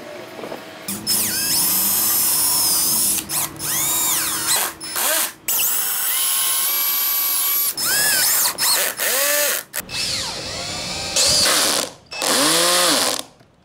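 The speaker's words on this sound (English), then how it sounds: "So now I'm just gonna glue and screw the basic frame of" A power drill drives screws into a wooden birdhouse frame, loud whining bursts that rise and fall in pitch, repeated many times with short pauses between runs, close and alone.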